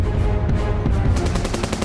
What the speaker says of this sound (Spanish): ¡Fueron disparos!